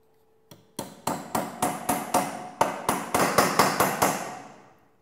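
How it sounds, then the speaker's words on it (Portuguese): A nail hammered into wood while building a screen printing table, about a dozen sharp close blows in a steady rhythm with short ringing decays, one light tap first. "é onde eu vou fazer a fixação do prego para poder fixar essa madeira"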